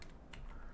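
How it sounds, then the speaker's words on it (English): A few computer keyboard keys are pressed while modeling 3D software, quick light clicks in a short burst, close and quiet with no talk. "so I'll hit 1 on my keyboard"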